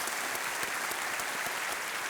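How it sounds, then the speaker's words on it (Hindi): Dense studio audience applause on a televised quiz show, loud, even and continuous across the short span. "एक बार फिर तालियों के साथ इनका हम अभिनंदन करते हैं।"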